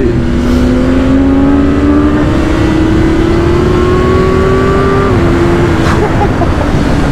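A BMW S1000R motorcycle pulls hard at full throttle, its loud, close engine note climbing steadily through the revs with a brief shift, heard over heavy wind rush.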